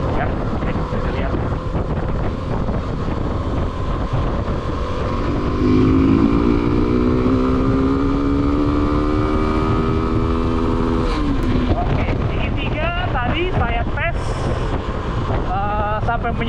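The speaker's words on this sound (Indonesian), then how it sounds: "Jadi gigi 3 langsung kita buka gas sampai di 99" A Suzuki V-Strom 250 SX motorcycle accelerates hard in third gear on a paved road, its engine pitch climbing steadily toward the limiter under heavy wind rush, with a rider's voice speaking intermittently.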